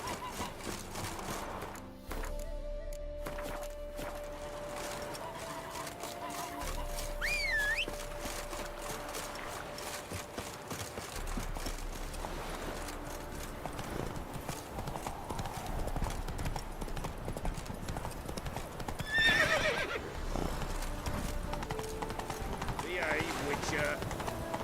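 Roach, the horse in The Witcher 3 video game, gallops with fast rhythmic hoofbeats and gives a neigh, heard over game music and character voices.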